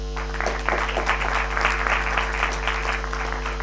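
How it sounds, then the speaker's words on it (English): Sustained applause from a conference audience at a summit, dense hand clapping from many people filling the room at fairly even loudness, with no talking over it. "Bana, a big clap."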